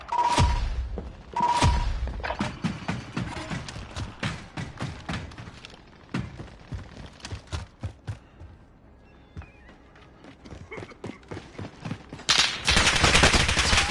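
Video game gunfire in rapid bursts and single cracks, loud and close, with dense volleys at the start and end and scattered shots between, mixed with other game sounds and no speech.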